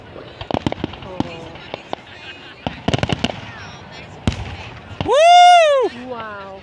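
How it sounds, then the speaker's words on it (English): Bonfire night fireworks on the outskirts of Lewes near chalk cliffs, a string of sharp distant cracks and pops followed by a rising whistle, with people talking and exclaiming outdoors. "look, Stan, there's another firework display behind"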